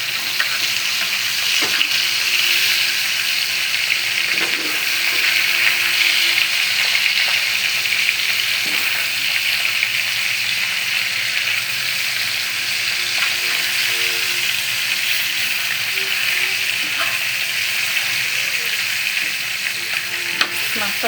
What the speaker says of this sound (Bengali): এদিকে মাছটা ভেজে নিচ্ছি